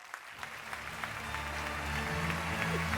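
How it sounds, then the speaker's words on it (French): Audience applause for Lola Marois at a 60th birthday show, moderate and steady, swelling slightly with music or a low hum underneath. "Je vous demande d'applaudir très fort Lola Marois"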